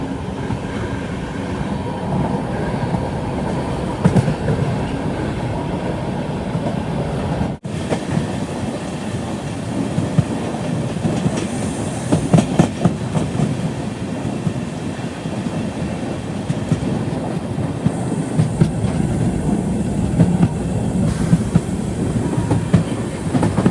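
The Hatia Express, an overnight Patna-to-Ranchi train, heard from inside a 3AC coach as a continuous loud rumble with rhythmic clickety-clack of wheels on rail joints and occasional rattles throughout.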